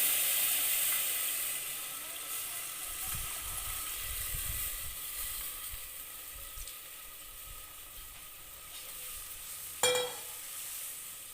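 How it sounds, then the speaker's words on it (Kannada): Tamarind juice poured into a pot of seasoning for Kannada-style bassaru with horse gram, sizzling and bubbling steadily at close range, with a brief sharper splash-hiss near the end. "ಹುಣಸೆ ರಸನ ಹಾಕೊಂಡ್ಬಿಡ್ತೀನಿ. ಹಾಕಿ ಫಸ್ಟು ಕುದಿಸ್ಕೊಬಿಡ್ಬೇಕು."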